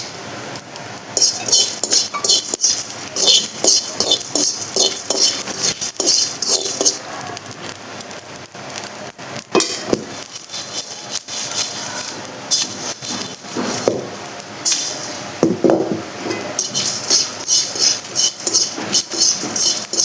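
Whole coriander and cumin seeds dry roasting in a pan for moong dal, giving a steady close rattle and light scraping clinks throughout, with some busy kitchen noise around it.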